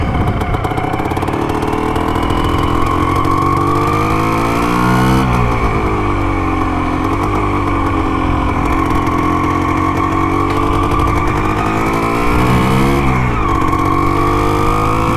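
A restored Can-Am motorcycle engine runs loud and steady throughout a test ride, with rising and falling revs as the throttle opens and eases, close and continuous with no talk.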